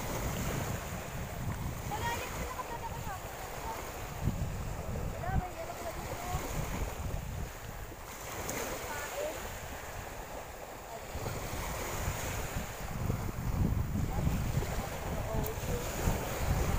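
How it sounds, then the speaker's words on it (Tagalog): Strong wind buffets the microphone steadily beside open ocean water on a fishing boat off Atimonan, Quezon, with waves washing underneath throughout. "Lakas ng hangin."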